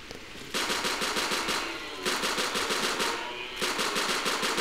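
Rapid automatic gunfire from a Rimworld colony battle crackles in three long bursts separated by short pauses, each a dense stream of sharp shots.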